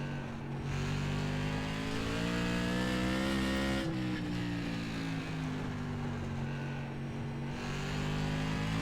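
A Tour Modified race car engine drones steadily at high revs, then briefly dips around the shift into second gear and climbs back to a sustained, loud roar.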